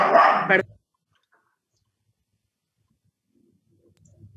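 A dog barks in one short, loud burst nearby, followed by near silence with faint low rumbling at the end.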